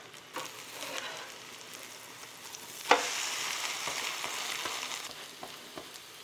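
Thin vegetable batter sizzles in a hot, well-oiled frying pan. The crackle is steady and moderate, swells into a sharp hiss around the middle, and is topped by small spoon taps and scrapes. No voices are heard.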